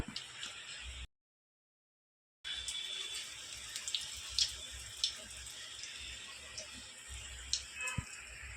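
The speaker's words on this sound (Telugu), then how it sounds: "ఇలా చిన్న చిన్న ముద్దలుగా చేసుకుని ఇలా ఈ సైజులో చేసుకుని ఆయిల్లో వేసుకుందాం అండి." Small balls of sweet dough are dropped into hot oil in a kitchen pan and fry with a steady bubbling sizzle and scattered pops, close and soft, with a brief silent gap early on.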